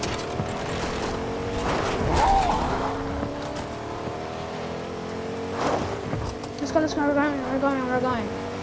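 Car driving in the video game Fortnite, a steady engine drone with shifting tones and a brief squeal-like sweep near the end, heard under voices talking.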